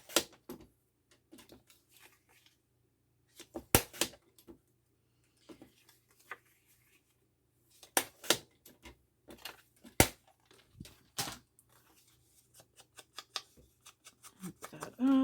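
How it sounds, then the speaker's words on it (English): Scissors snipping paper down to a smaller size for an envelope journal, a string of sharp close crisp cuts in irregular bursts with quiet gaps between them. "I'm going to cut that down again, even a little smaller for that spot."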